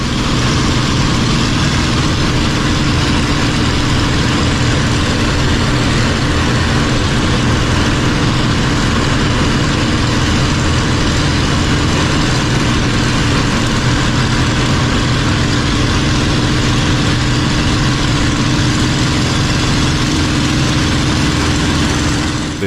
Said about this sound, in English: This P-51 Mustang flying in formation,